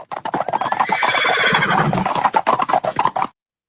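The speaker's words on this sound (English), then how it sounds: "I will go ahead and play the horse trotting" A horse sound effect played on a livestream, with a loud whinny and a busy run of rhythmic hoof clip-clops stopping abruptly before the end, no talking over it.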